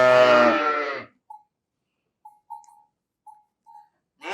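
Livestock on a family farm in Gmicë, where cattle and sheep are kept: a few brief, faint bleats and calls at a distance after a loud voice, mostly quiet between them.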